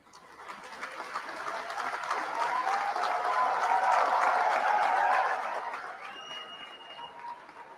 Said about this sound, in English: Please join me in extending a warm round of applause.